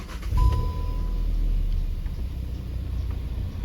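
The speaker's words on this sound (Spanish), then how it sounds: "Vamos a encender el motor." Volkswagen 1.4 TSI car engine started up close by, a brief starter catch followed by a steady low idling rumble that holds for several seconds with no voices.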